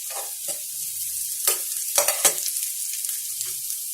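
Grated ginger fries in a pan with a bright steady sizzle, broken by a few sharp scrapes and clinks of a spoon against the pan.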